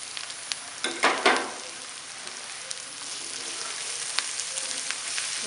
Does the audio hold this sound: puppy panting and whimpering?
no